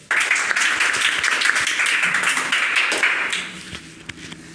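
A crowd at a coaching academy results event applauds to welcome a speaker, with dense, steady clapping that is loud at first and then thins out and fades near the end.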